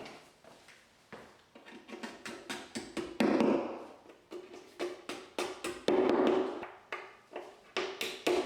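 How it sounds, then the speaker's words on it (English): Hammer blows knocking Corefix wall plugs, 10mm diameter and 100mm deep, into a dot and dab plasterboard wall: steady series of sharp close taps in quick bursts, heavier thuds midway. "Knock in the Corefix plugs."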